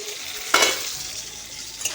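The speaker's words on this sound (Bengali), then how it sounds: "আলু উচ্ছা ভাজাটা বসিয়েছি" Potato and bitter gourd fry in oil in a pan, a soft continuous sizzle with one sharp scrape of a stirring utensil and a fainter knock later, close and without speech.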